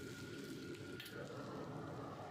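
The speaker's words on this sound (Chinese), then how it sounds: "把青椒块下锅3-4秒钟，" Green pepper pieces drop briefly into hot oil, giving a faint, steady crackling sizzle throughout, with one brief brighter hiss in the middle.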